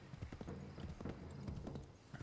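Horse hooves clip-clop in the Assassin's Creed 3 video game, a quick uneven run of close hoof thuds over a muddy background of game ambience.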